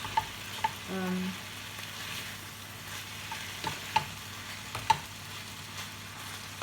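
Food is stirred and heated in a pan, with a low steady sizzle and a series of distinct spatula taps and scrapes at irregular intervals, close and quiet.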